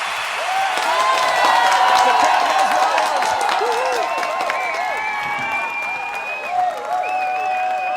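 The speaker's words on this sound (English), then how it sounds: "Give her a round of applause." A studio audience claps to welcome a guest onto an interview show, with dense applause and a few cheers, while a host's voice carries on over the clapping.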